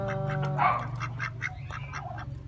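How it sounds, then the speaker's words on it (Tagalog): Peking ducks on a farm in Pampanga, Philippines, quack repeatedly in short nasal calls that overlap one another, fairly close, with a low steady hum behind them. "Itik tsaka bibi. Yung dalawang peking."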